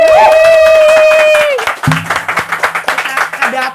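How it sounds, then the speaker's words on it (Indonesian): An audience breaks into clapping after a sustained voiced tone, the applause continuing as a patter of fairly close hand claps to the end. "Tepuk tangan dulu dong semuanya"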